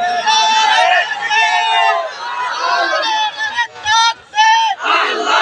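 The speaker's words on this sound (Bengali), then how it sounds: "কেউ কি আছেন একটা তাকবীর দেওয়ার মতো?" A large outdoor crowd at a rally in a school field roars a takbir in unison, loud sustained chanting with swelling voices and brief breaks between shouted calls.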